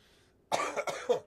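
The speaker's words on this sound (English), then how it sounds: "Cough it out, baby." A short burst of three rough coughs in quick succession, close and fairly loud, after a brief quiet pause.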